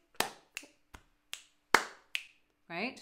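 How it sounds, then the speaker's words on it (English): Body percussion in a steady pattern of slaps, finger clicks and claps, six crisp close hits spaced about evenly, followed by a short spoken word at the end. "So slap, click, clap, click, slap, click, clap,"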